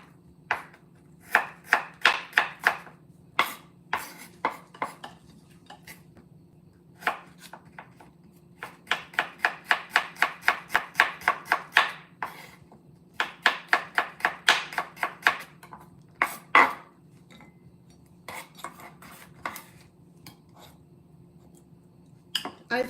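Knife chopping beef into cubes for skewers on a cutting board, crisp rapid knocks in bursts with short pauses between runs, close and fairly loud over a low steady hum.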